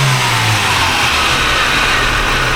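The rare Quad 4 engine of a Beretta Z26 runs steadily close by with a continuous, loud, smooth hum, and no voices are heard.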